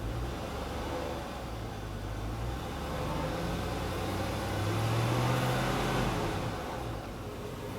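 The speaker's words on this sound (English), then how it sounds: "It started to rev, nothing, it kind of dropped, and then it came back on again." A hot SUV engine under heavy throttle revs up, sags and then picks back up. A continuous, moderately loud engine drone swells near the end, with no talking.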